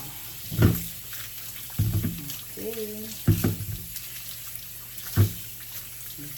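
Tap water running in a kitchen sink while peeled cassava is rinsed, with steady low flow and a few splashy bursts as the roots are handled; a voice speaks briefly.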